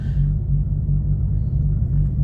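A Nissan car engine idles steadily just after a cold start, with battery clamps freshly tightened following an alternator charging fault. It makes a close, continuous low rumble with no speech.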